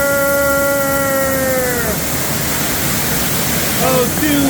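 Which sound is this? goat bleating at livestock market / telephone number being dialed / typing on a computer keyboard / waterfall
waterfall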